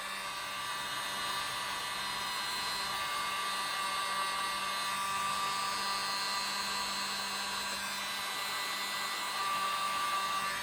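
A blower hisses steadily and close while drying silver, pewter and metallic cobalt blue paint, a constant airy whine with no pauses.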